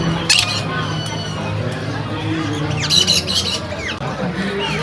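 Birds squawk and chirp in bursts over a noisy background of people talking nearby, at Everglades National Park near Homestead, Florida.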